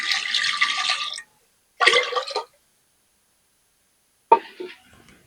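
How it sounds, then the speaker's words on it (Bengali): Hot water is poured into the pot while cooking Bengali vapa kuli pitha, heard as three short, splashy pours close by, separated by silence, with the last one briefest. "হ্যাঁ, আর একটু গরম জল দিতে হবে।"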